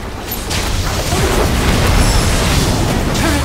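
A turret is destroyed in the mobile game Wild Rift (League of Legends mobile): a loud, dense, booming blast that swells within half a second and holds steady for about three seconds.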